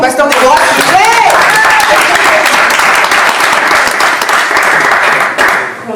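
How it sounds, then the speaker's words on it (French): A church congregation gives its pastor loud, sustained applause, a dense continuous clapping that briefly overlaps speech at the start and eases off slightly near the end. "Est-ce qu'on peut applaudir au pasteur Déborah, s'il vous plaît?"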